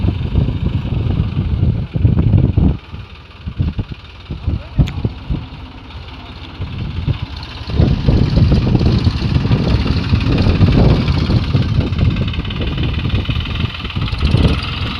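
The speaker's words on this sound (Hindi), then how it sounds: "हमारे फार्म पर ट्रैक्टर चल रहा है।" A tractor engine runs steadily on a farm during land levelling, a loud, close, throbbing rumble with rising and falling load and brief clattering peaks throughout.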